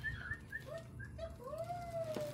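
Soft cooing calls of a dove drift in from a distance outdoors, several short hoots ending in a longer drawn-out note, with faint background hiss.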